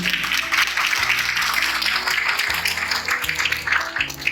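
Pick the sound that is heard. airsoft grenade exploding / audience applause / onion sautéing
audience applause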